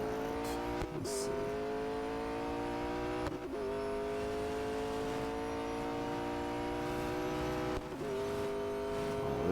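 A race car engine in the Real Racing 3 video game drones at a high, sustained pitch, climbing steadily at the top end with brief dips at gear shifts, loud and continuous with no talk over it.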